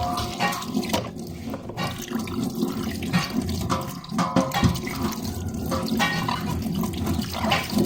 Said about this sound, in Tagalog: Ano po siya guys, naghuhugas na po tayo.